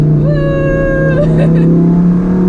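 A Lamborghini Performante Spyder engine revs loudly and close, its pitch climbing steadily before leveling into a strong drone, with a voice briefly audible over it.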